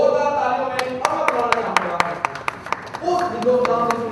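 Audience at a Doordarshan show launch clapping in sharp, scattered bursts, with an announcer talking over the applause.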